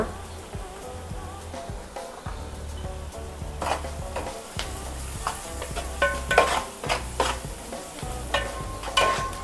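Ginger-garlic paste fries in a pan for fish curry, a continuous sizzle broken by scraping stirs and spoon clinks against the pan that grow louder and more frequent toward the end.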